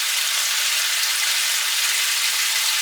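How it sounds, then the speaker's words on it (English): Bacon frying in a non-stick pan as the water cooks off, giving a dense, steady hiss of sizzling and fine splattering up close with no voices. "The non-stick frying pan is splattering now because the water is almost gone."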